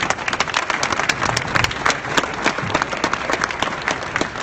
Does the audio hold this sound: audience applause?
yes